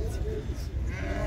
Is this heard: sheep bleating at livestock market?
yes